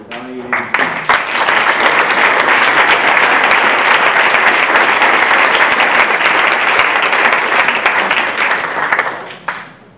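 Full audience applause after a lecture on Alzheimer's disease research, rising quickly into a dense, steady roar of many hands clapping that holds loud for about nine seconds before tapering off at the end.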